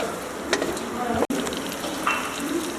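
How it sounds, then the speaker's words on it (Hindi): Mutton tikka pieces being stirred in a hot pan on a stove, giving a steady close sizzle and frying crackle with occasional scraping stir sounds throughout. "चूल्हे को ऑन करके इसे थोड़ा सा मिक्स कर लेंगे"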